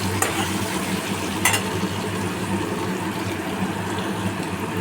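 Banana stem and potato frying in a pan with turmeric and salt while being stirred, giving a steady close sizzle with soft scraping of the spoon throughout.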